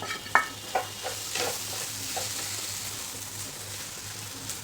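Steamed mushrooms go into a pan of marinated masala and are stirred, giving a soft sizzle with scraping stir strokes, a few sharper knocks near the start, then steady frying hiss.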